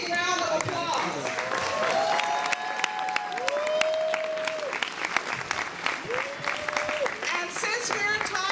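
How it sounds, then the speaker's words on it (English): Sustained audience applause fills a gala hall, steady and dense clapping throughout, with a voice speaking over it and a few tonal sweeps cutting through. "let's give Congresswoman Eleanor Holmes Norton a big round of applause"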